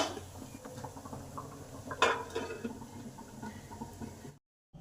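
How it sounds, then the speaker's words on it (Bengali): A covered pot of fish steamed in mustard and poppy-seed paste boils hard over high heat, giving a steady, dense bubbling hiss with a few faint metallic clinks before it cuts to silence. "পুরো দমে ফুটছে"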